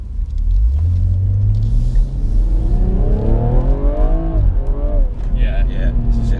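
BMW M135i/M140i hatchback accelerating hard on a road, loud rising engine roar climbing steadily through the gears with a brief shift dip, close and continuous, with people talking over it.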